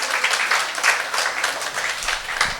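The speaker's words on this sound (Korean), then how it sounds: "박수 한번 주세요." A church congregation breaks into brisk, close applause, dense clapping sustained at moderate loudness for a few seconds with little talk beneath.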